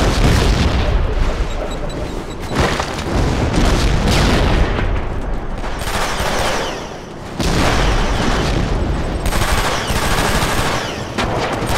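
Dense Killzone 2 combat, heavy booming explosions mixed with sustained machine-gun fire, loud and continuous, with a brief lull partway through before the barrage resumes.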